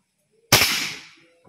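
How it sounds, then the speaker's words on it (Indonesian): A single sharp crack from a GAMMA Sporty air rifle, fired outdoors during an accuracy test. The report is loud and close, with a short decaying tail, and no voices are heard. "nanti 6 kali tembakan atau 7 kali tembakan seperti apa hasilnya kita lihat"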